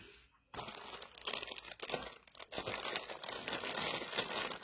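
Paper for a junk journal being folded and creased by hand, close crinkling and rustling that starts after a brief pause and continues steadily, with no talking.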